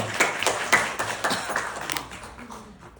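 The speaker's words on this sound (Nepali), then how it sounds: "ताली बजाउने एकपल्ट सबैले जोरदार।" A church congregation claps loudly all together, a dense wash of many hands with a few sharp peaks, building for a couple of seconds and then thinning out and fading.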